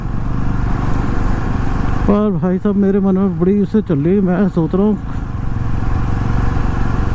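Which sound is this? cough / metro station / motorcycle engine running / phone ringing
motorcycle engine running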